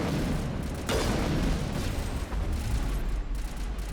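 Heavy turret gunfire and booming blasts in the sci-fi shooter Mass Effect, a dense continuous barrage of loud, rumbling shots with no pauses.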